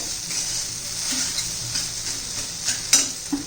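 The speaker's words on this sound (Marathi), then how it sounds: "एक बटाटा घातलाय मी व्यवस्थित मिक्स करूया" A boiled potato is stirred into sabudana khichdi in a pan, a continuous sizzle with soft scraping and a few sharper spoon knocks near the end.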